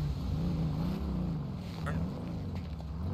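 Car engine idling and rumbling at low volume in GTA V as the car is parked, a steady drone with slight rises in pitch and no talk over it.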